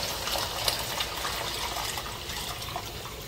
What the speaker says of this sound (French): Je vais ajouter de l'eau pour avoir un fin bien frit.